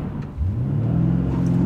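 A BMW M5 CS launching under launch control, its engine rising in a steady loud roar of acceleration close by for the whole short burst, with no talk.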